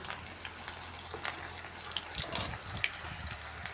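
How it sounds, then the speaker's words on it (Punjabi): Stuffed bitter gourds (karela) deep-frying in oil on an outdoor clay stove, a faint, continuous crackling sizzle with a low wind-like rumble, heard at a distance with no talking. "ਹੁਣ ਜਿਹੜੇ ਬਾਕੀ ਦੇ ਰਹਿ ਗਏ ਉਹ ਵੀ ਆਪਾਂ ਤਲ ਲੈਨੇ ਇਸੇ ਤਰ੍ਹਾਂ ਸਾਰੇ ਆਪਾਂ ਕੱਢ ਲਾਂਗੇ ਤਲ ਕੇ"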